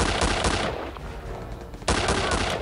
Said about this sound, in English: Now we can use our paratroop rifle.